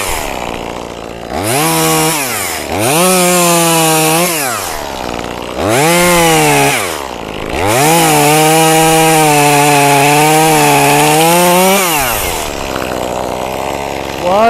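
A chainsaw cuts through a branch of an old walnut tree outdoors, its engine loud and close, rising to a high whine during each cut and dropping back to idle between several passes.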